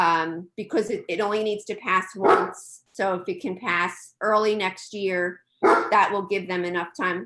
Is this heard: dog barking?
yes